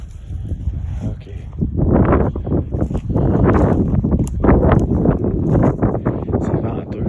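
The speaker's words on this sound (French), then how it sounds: "C'est venteux." Strong gusts of wind buffet the area around a ruined, abandoned house with collapsed walls, loud, rough and close, roaring in surges for several seconds.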